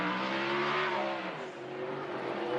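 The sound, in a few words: touring race car doing a burnout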